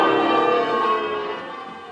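Church bells ring as a stage sound effect at a village variety show, with a bright, sustained peal of overlapping tones that slowly fades over about two seconds with no talk.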